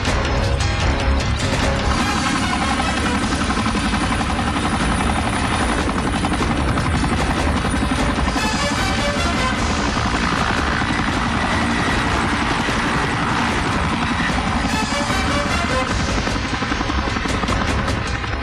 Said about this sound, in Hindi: वो लड़का हमारे बेस से हेलीकॉप्टर लेकर उड़ गया है।